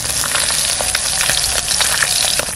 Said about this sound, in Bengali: মাছগুলো কড়া করে ভেজে নিতে হবে, লাল করে।